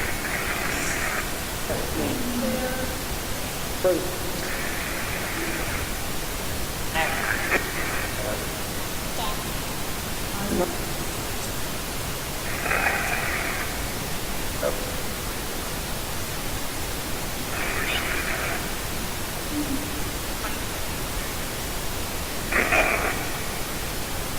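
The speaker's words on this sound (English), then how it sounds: "and obviously the pink noise" Steady broadband hiss of pink noise runs throughout, with short bursts of a voice and other sounds appearing intermittently over it.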